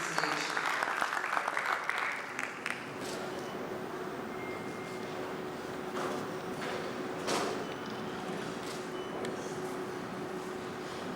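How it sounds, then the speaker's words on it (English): At a bank's product unveiling, an audience applauds steadily as an executive walks to the stage, a dense, even wash of clapping that lasts throughout. "A round of applause for him as he makes his way to the stage."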